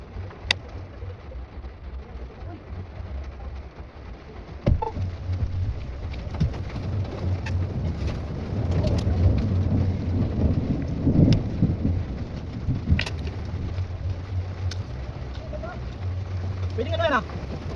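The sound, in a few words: rain and thunder in France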